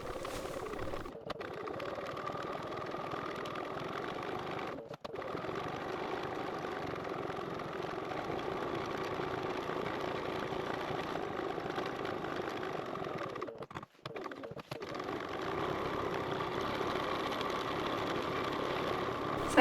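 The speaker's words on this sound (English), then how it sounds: "Now we're going to take this back to the machine and just top stitch along this edge at a 1/8 inch seam allowance" Sewing machine running steadily while top stitching along a fabric edge at a 1/8 inch seam allowance, a continuous whirring hum with only brief pauses, close and alone.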